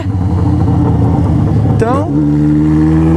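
A Yamaha XJ6 motorcycle fitted with a new aftermarket exhaust revs loudly up close, a steady deep engine drone with a quick rising blip of throttle partway through before settling back to a strong idle.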